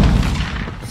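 A stun grenade goes off in a military shooter video game, a single loud, close boom with a heavy low thump that lingers and rolls off over under a second.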